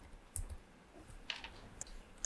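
A few sparse, soft clicks of computer keyboard keys being tapped, quiet and irregular against a faint background hiss.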